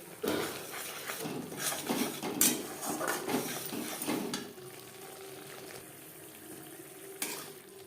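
Spices for a vegetarian navratan korma fry in oil, a soft crackle under repeated stirring and pan scrapes that ease off into a quieter, steady simmering hiss near the end.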